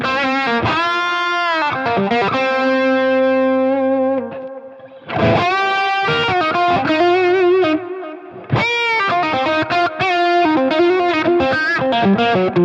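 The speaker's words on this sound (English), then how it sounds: "I'm going to stack the Clarksdale into the Euphoria" Electric guitar run through a Wampler Clarksdale overdrive stacked into a Euphoria pedal, loud driven chords and sustained notes with short gaps between phrases, played alone.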